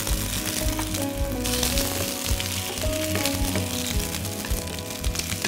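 Steady, loud sizzling of mixed vegetables stir-frying together in a hot frying pan, with faint clinks and stirring noises over a continuous crackle.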